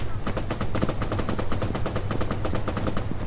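Rapid, continuous automatic gunfire from a weapon in the military shooter game Arma 3, dense rhythmic bursts of shots filling the whole stretch, loud and close.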